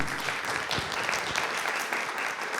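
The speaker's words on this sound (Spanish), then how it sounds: "un aplauso con todo nuestro cariño, nuestro respeto y nuestro reconocimiento" Audience applause at a university book launch event, a dense, even wash of clapping held at moderate volume for a few seconds with no voices over it.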